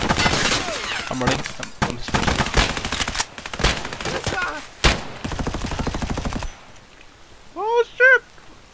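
Loud bursts of automatic gunfire in Escape From Tarkov, a PMC being engaged in close range, with rapid shots cutting through shouted talk from several players, then quieter moments and a brief voice.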